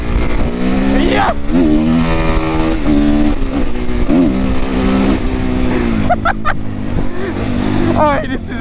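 Honda CRF450R supermoto motorcycle ridden on the road, its single-cylinder engine revving up and down through gear changes, loud and close with steady wind rush; the rider talks over it.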